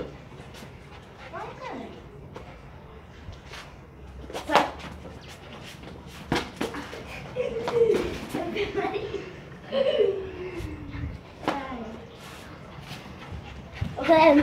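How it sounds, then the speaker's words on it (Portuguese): A small dog scampers after a ball in a garage, with scattered yips, whimpers and panting among footfalls and bumps, while people talk and laugh nearby. "esse é minha cachorrinha, né? Ela tá correndo atrás da bola"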